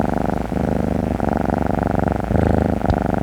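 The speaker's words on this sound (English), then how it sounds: "if you just heard a purring sound" A steady, low rumbling purr runs continuously and evenly at close range, with no voices over it.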